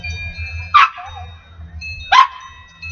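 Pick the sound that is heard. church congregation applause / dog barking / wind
dog barking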